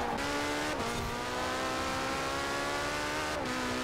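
A Lamborghini races in Forza Horizon 4, its engine droning loud and continuous at high revs, with brief dips at gear shifts near the start and end.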